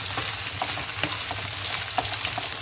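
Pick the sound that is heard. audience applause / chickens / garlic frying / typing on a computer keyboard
garlic frying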